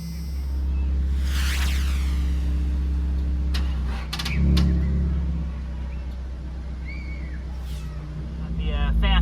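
A 1st-generation Cummins turbo diesel, sitting unstarted for five years and with a low battery on jumper cables, cranks and churns as a loud low rumble that dips midway then builds again; brief squeals and a person talking come through.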